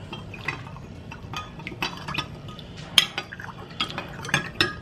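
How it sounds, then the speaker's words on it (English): A spoon stirs sugar into red wine vinegar dressing for a cucumber and onion salad, with soft swirling liquid and scattered light clinks against the dish, close and fairly quiet, no talk. "And then just stir it around."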